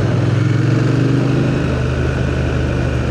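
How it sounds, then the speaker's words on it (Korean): Triumph Speed Twin 1200RS, a 1200cc parallel-twin motorcycle, idling steadily up close with a deep, even engine rumble and no talk throughout. "이게 같은 엔진이라고요?"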